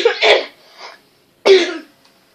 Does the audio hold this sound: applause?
no